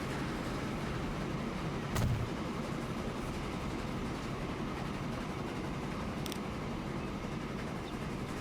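Train from Transport Fever 2 rolling along its track, a steady low rumble that holds throughout, with one brief louder thump near the start.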